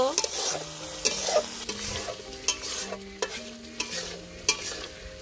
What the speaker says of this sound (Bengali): লবণ, মশলাটাকে খুব ভালোভাবে কষিয়ে নিব